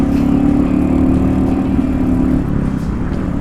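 A Royal Enfield Meteor 350 motorcycle hums along at a steady engine drone while being ridden, with a slight shift in tone near the end as the rider heel-shifts gears, loud and close with no voices.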